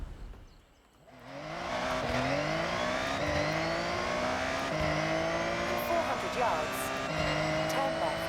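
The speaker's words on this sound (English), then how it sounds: "change cars, because I have the perfect car for this. Nissan GTR, the 92." A 1992 Nissan GT-R's engine in Forza Horizon 6 revs up from a near pause and holds a strained, rising whine through repeated gear changes, loud and continuous.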